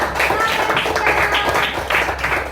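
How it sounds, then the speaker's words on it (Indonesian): A classroom of students applauds a group of classmates, dense overlapping claps sustained at a steady loudness throughout with a few voices mixed in. "Tepuk tangan untuk kelompok"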